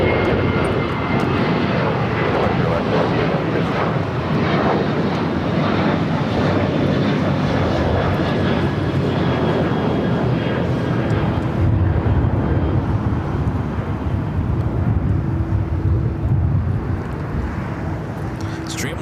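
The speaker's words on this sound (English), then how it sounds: "Dreamliner coming up from London Heathrow, flight 935 at 787-9 at Dreamliner." A Boeing 787-9 Dreamliner jet at LAX roars loudly and steadily for the full duration, its engine noise broad and sustained, with radio voices and talk underneath.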